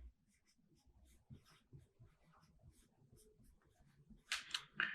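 A math calculation is written by hand, giving a quiet, close scratch of pen strokes in short irregular bursts, ending in a couple of louder scrapes.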